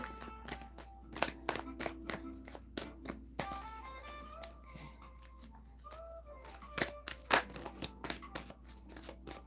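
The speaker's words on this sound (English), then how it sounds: "Let me shuffle a little bit." A deck of cards being shuffled by hand, with repeated quick riffling and snapping bursts in irregular clusters, close and fairly quiet, over a low steady hum.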